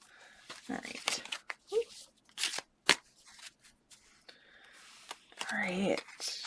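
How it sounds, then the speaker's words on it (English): Tarot cards shuffled by hand in short, uneven bursts of riffling and soft slapping, close and fairly faint, with a voice speaking in between. "Couple more shuffles here."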